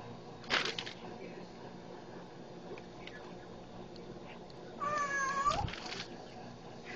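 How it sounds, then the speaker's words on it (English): A kitten gives a short meow early on and a longer, wavering meow near the end, both faint and close, over quiet room noise with a soft voice in the background. "You pet it hard enough, it'll purr back and meow."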